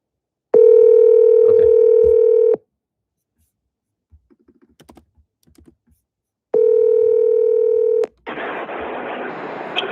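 A phone number being dialed: a loud steady dial tone, a run of short quiet key presses, a second long tone, then a rough hiss as the line connects.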